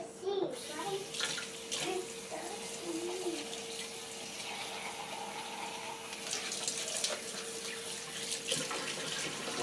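Tap water splashing and running steadily over soaked sunflower and pea seeds being rinsed for microgreens, a continuous close wash with a brief faint voice near the start.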